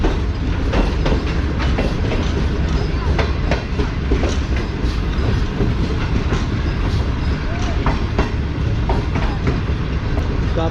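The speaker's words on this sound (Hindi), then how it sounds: "मंडी जंक्शन को आहिस्ता आहिस्ता ट्रेन स्किप कर रही है" The Tezgam train rolls slowly through Mandi junction on Pakistan Railways, with steady rumbling and repeated clickety-clack of wheels over rail joints, loud and close throughout, with faint talk in the background.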